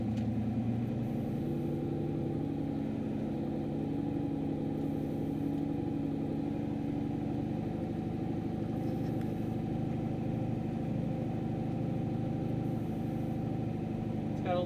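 A turbocharged Chevrolet Silverado with a full exhaust idles steadily, a deep continuous rumble with a slightly uneven pulse, close and loud throughout, with no voices.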